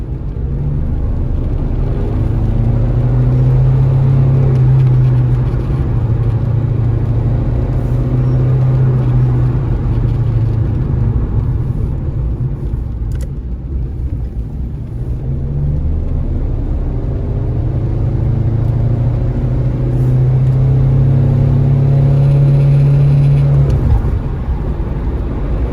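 A Maserati engine pulls under acceleration past about 3,500 rpm with a steady low grinding drone, rising and falling in two long swells over road rumble inside the car.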